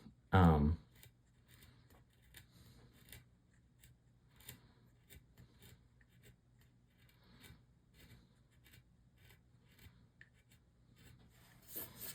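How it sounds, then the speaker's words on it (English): Quiet scraping and light cutting strokes of a sharp chisel carving wood into a rope shape, irregular and close, with one louder knock near the start. "sharp chisel carving and listening to it cut"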